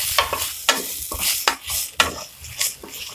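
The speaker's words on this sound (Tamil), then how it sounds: "கொஞ்சம் 2-3 செகண்ட் வரைக்கும் நம்ம வந்து ஃப்ரை பண்ணிக்கலாம்." Grated coconut frying in a pan, sharp rhythmic scrapes of a spatula about every half second over a soft sizzle, close and fairly loud, with no talk.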